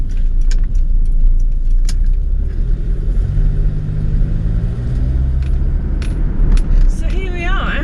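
A 1967 Rover 2000 automatic, series 1, pulling away, a steady low engine rumble and road noise from inside the car, fairly loud and continuous, with a faint voice near the end.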